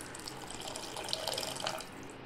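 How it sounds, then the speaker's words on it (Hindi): Half a glass of water being poured into fried masala in a pan for paneer tikka masala, a soft trickling splash with faint sizzle, fairly quiet and close, no talk over it. "आधा ग्लास पानी डालेंगे"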